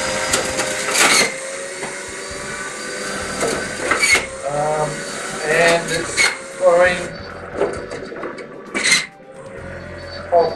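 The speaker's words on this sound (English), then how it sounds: "Sunbeam centrifugal juicer." A Sunbeam centrifugal juicer motor whines while whole apples are fed in, with a loud, uneven grinding drone rising and dipping in bursts as fruit is pressed through; a person talks over it.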